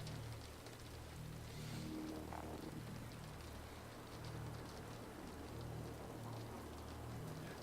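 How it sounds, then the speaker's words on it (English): Steady rain falls and patters on surfaces in a dense, continuous hiss that fills the whole stretch, with a faint low drone underneath and no voices. "enjoy the rain sounds"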